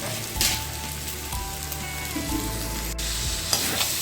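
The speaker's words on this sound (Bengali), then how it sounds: "ওই ভিজে রাখা সাবুগুলো দিয়ে দেবো" Soaked sago pearls hit a hot pan and sizzle steadily, with light stirring scrapes and occasional clinks, close and moderately quiet, no voices.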